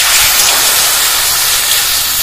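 Water poured into a hot kadai of roasted moong dal bursts into a loud, continuous steamy hiss that holds steady throughout, with no talking.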